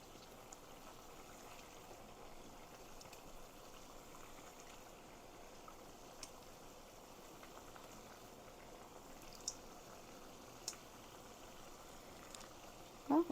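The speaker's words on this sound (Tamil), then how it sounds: "இப்போ நல்லா கொதிக்குது." Fish curry (kulambu) simmering and bubbling in a pot on a stove, a steady low bubbling hiss with no speech and a few faint clinks and a brief knock at the end.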